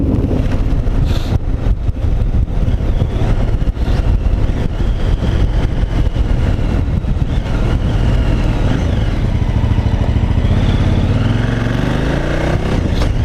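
A motorcycle on knobbly tyres runs steadily at speed, its engine drone and tyre hum blended with heavy wind rush across the microphone, loud and continuous, with a slight rise in pitch near the end.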